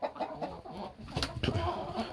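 Aggressive hens, some feathered-footed silkie mixes, give short scattered clucks and scuffles close by, fairly quiet against steady background hiss.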